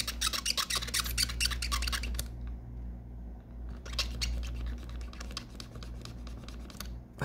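A cardboard tube soaked in isopropyl is scrubbed inside the cartridge slot of an iQue AGS-101 Game Boy Advance SP, giving harsh, close scratchy rubbing in rapid strokes that pause briefly, then resume loudly, with no talk.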